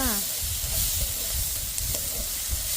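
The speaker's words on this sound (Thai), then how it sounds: "อันนี้ผัดหอมกระเทียม แล้วก็มะเขือเทศแล้วก็เห็ดเดจ้า" Shallots, garlic, tomato and mushrooms stir-fried in a pan for tuna fried rice, a dense steady sizzle with faint intermittent scrapes, close and even throughout.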